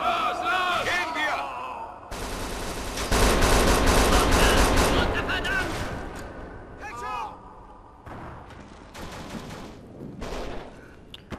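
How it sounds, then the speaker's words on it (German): A heavy hail of gunfire erupts in a parking garage in Kane and Lynch 2, loud sustained bursts overlapping and then thinning into scattered shots, with voices shouting over the fight. "Ja, die schießen aber auf mich."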